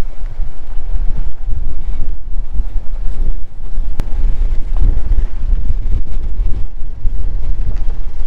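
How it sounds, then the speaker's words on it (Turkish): Strong wind roaring and buffeting the microphone continuously at a windy coastal cove, a loud low rumble with gusts, no voices. "Çok rüzgar olan bir yere geldik."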